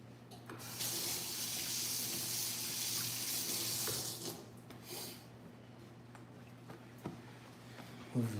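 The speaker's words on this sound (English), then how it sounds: "Let me wash my hands." Water runs steadily from a kitchen sink tap as hands are washed during home cookie baking, a broad continuous rush for about four seconds that then eases off, leaving quieter clinks and handling sounds.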